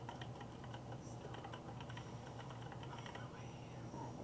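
Quick, light keystrokes on a computer keyboard tap along steadily at close range, a soft murmur of talk faintly underneath.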